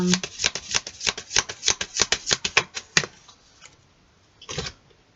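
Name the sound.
shuffling tarot cards for a reading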